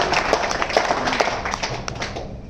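An audience at an education talk gives a burst of applause, dense overlapping claps at moderate loudness, with a few sharper close hand claps standing out before it thins slightly.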